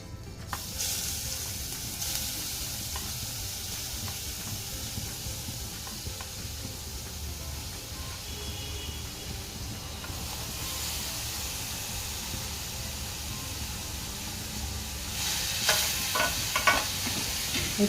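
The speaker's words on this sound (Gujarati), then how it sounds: "હવે આપણે જે બીટનું છીણ તૈયાર કરેલું છે તેને કડાઈમાં ઉમેરી દેશું" Grated beetroot fries in hot ghee in a kadai, a steady close sizzle and hiss with stirring scrapes throughout, growing a little louder and busier near the end.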